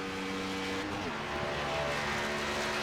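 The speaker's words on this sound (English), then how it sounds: "Sounds like we got a car flying by somewhere." A Gen6 stock race car in iRacing drones past, its engine pitch sliding downward as it goes by, over the steady hum of the player's own car.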